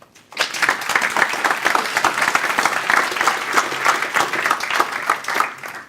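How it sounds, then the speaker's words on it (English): A conference audience at the PIPELINE conference 2018 breaks into loud, sustained applause, a dense wash of many hands clapping close together that starts abruptly and carries on steadily without talk. "so we can give ourselves a big round of applause for making this"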